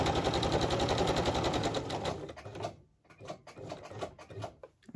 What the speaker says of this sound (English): if you don't like the sewing machine, you can fast forward or turn the volume down